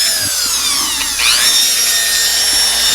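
A drill bit grinding out plastic material from a model 1980s NASCAR Monte Carlo grille, a close, loud high whine that shifts pitch mid-way, with faint scraping.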